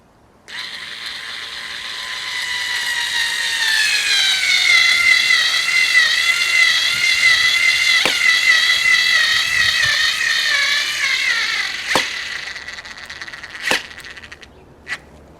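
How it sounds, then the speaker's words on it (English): A power tool driving a screw with a worn, damaged head, a loud, close, steady whirring whine rising and holding for about ten seconds, then a few sharp clicks as it stops. "we'll drive this screw in just to do it, now that the head of it is knackered some"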